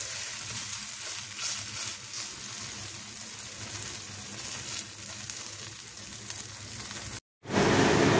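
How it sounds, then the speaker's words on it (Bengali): Breakfast cakes fry in a pan with a continuous crackling sizzle close by, steady until it cuts out briefly near the end and then resumes; nobody speaks. "দুপাশ ভালোভাবে ভাজা হয়ে গেছে।"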